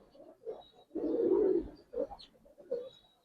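Pigeons cooing in a series of low, throaty bursts, one longer rumbling coo in the middle, close by with no talking.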